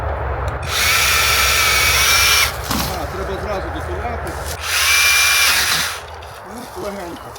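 A GRAND cordless battery mini chainsaw runs in two loud, high-pitched whining bursts while cutting wood outdoors, with voices talking between and around the bursts.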